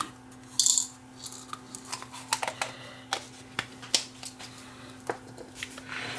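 Small screws from a Sony Beta SLHF1000 VCR under repair drop into a plastic pill bottle, making a close series of light, irregular clicks and rattles.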